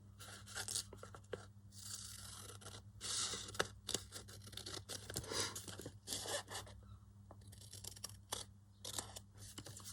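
Scissors trimming paper for an envelope craft insert, close and faint, with repeated quick snips and rustling paper in irregular bursts, no talking.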